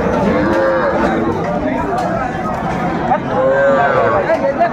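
A cow moos loudly and close at a busy rural cattle market in Ambari, Dinajpur, two long drawn-out lows over a background of crowd chatter and bargaining voices.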